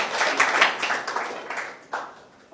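A classroom group claps hands on a teacher's command, giving a burst of fairly loud, uneven applause that fades in waves, with a brief renewed flurry near the end.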